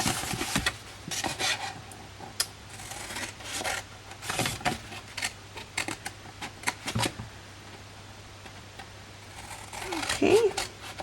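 Scissors cut a handmade paper triangular Christmas treat box along scored lines. Steady close snipping and papery rubbing go on throughout, with short pauses between cuts.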